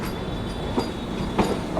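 The Agra Cantt–Banaras Vande Bharat train pulling into Kanpur Central, a steady rumble of rolling wheels with a few soft rhythmic rail clunks, close and continuous with no talk.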